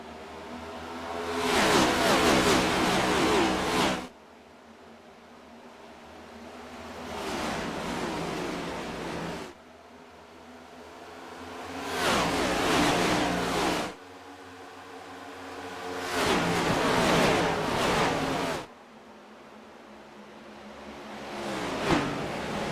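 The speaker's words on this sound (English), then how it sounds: "We go under green as we hear him go up through the gears." A next-gen Cup race car in a racing video game, engine droning in long sustained pulls that drop off abruptly and climb again, four gear shifts in a row, loud and steady with no voice.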